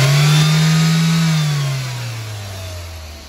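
A motorbike engine revs hard during a fuel line repair, then slowly winds down toward idle. The close, loud roar falls steadily in pitch and level with no talking.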